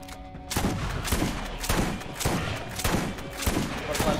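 Rapid gunfire from the video game Borderlands, dense repeated shots in a steady rhythm that fill the whole stretch at moderate level with no talk over them.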